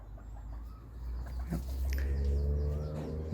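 A golden white-eared breeder jungle fowl hen's soft, low clucks sound close by over a steady low rumble of background noise.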